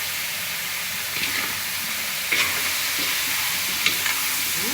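Meat for dinuguan fries with pepper in a pan, giving a steady close sizzle and hiss, while a utensil stirs it with a few soft scraping knocks.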